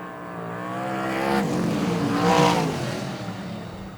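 Modified race cars circle Greenstone Park Speedway, their engines rising and falling in a harmonic whine as cars sweep past, building to a loud pass midway before fading.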